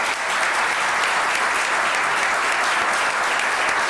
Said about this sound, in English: So a big round of applause for Catherine for that.